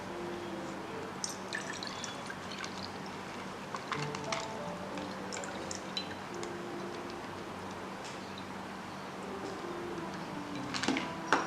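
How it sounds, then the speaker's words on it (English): Water drained from soaked rice through a strainer, a faint steady trickle with scattered drips and small ticking clicks in a quiet room, no voices. "so we'll just strain the water because we need just the water."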